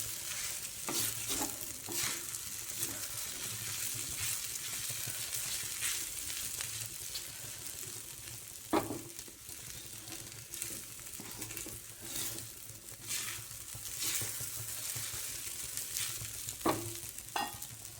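Sabudana khichdi is stirred in a pan over a low gas flame: a steady soft sizzle runs throughout, with intermittent spoon scrapes and clicks against the pan. There is no talking.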